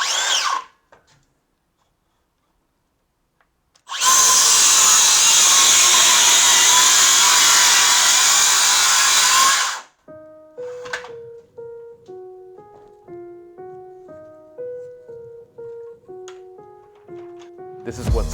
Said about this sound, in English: We're going to do 2 rip cuts all the way down to right before the vise